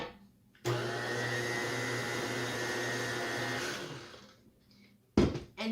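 An electric mixer whirs steadily through cake batter for about three seconds, loud and close, then winds down and stops, followed by a short clatter.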